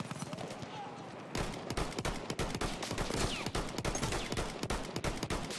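Rapid gunfire from a Battlefield 1 multiplayer match on PS4, a dense burst of sharp shots and crackling fusillade fired close and loud in quick irregular succession.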